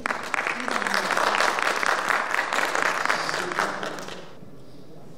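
Warm audience applause fills the room at a poetry gathering, loud and sustained for about four seconds before dying away abruptly.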